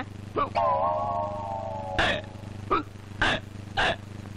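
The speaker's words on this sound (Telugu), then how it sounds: "ఎవరికి ఎక్కిళ్ళు?" Hiccups in a comedy scene, a few short abrupt voiced gulps in quick succession, close and loud, following a drawn-out vocal sound.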